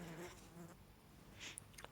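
A small fly buzzes faintly nearby in a quiet indoor room, its thin whine rising and fading in brief passes.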